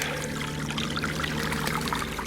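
Creek water tumbling down a series of built stone steps into a pool, a continuous broadband rush and splash with steady turbulent churning, close and loud throughout with no voices.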